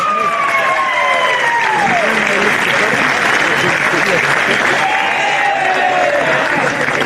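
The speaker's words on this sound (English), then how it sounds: "To our champions, Hills United, a round of applause" Crowd at an NPL 2 NSW football grand final between North Shore Mariners and Hills United applauding the champions, a dense, steady wash of clapping and cheering with faint whistles, while an announcer speaks over it.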